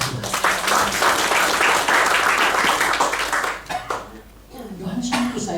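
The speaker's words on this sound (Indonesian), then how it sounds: "Tepuk tangan untuk Tuhan." A church congregation claps and cheers loudly for several seconds during a worship service, dipping briefly before picking back up, with voices mixed in.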